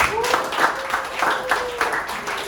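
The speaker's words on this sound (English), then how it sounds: "Give applause to Jerry" Applause for a student in a classroom, scattered group clapping in loose rhythmic bursts, with voices talking over it throughout.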